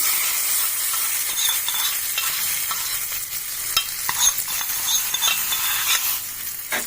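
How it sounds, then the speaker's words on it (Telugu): Tempering poured into chutney sizzles steadily with bright crackling and occasional stirring scrapes, close up, with no talking. "ఇప్పుడు మనం పచ్చడి తాలింపు వేసుకుంటాం"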